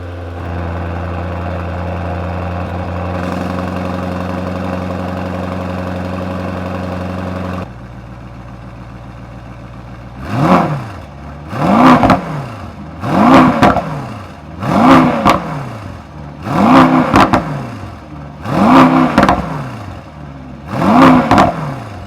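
A 2024 Mercedes-AMG S63 sedan with a V8 and rear-axle hybrid drive idles with a steady low hum, then its engine is blipped in seven loud, evenly spaced revs that rise sharply and fall back, with no voices.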